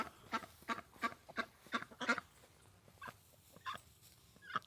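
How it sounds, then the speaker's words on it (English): A duck calls in a quick series of loud, close quacks, about six in a row, then a pause and a few more scattered calls. "And the duck's over here."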